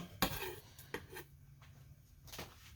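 Chopped onion pieces drop into a pan, followed by a few soft clinks and knocks as the pan is handled, faint and close in a quiet kitchen.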